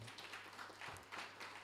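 A brief burst of audience applause greets a musician introduced as a panelist at a reggae industry discussion, moderate clapping from a seated crowd heard over a low hum.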